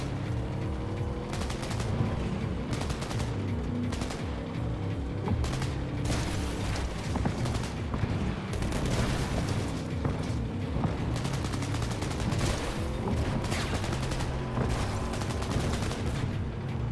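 Rapid gunfire from the video game Cyberpunk 2077, with dense bursts of automatic shots and booming impacts running continuously and loudly throughout, no speech.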